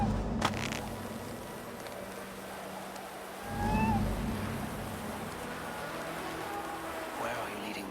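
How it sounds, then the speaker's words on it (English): A small cat in the video game Assassin's Creed Valhalla gives a short, clear meow midway through, heard over quiet ambient game sound with some speech around it. "Who put you up here, little cat?"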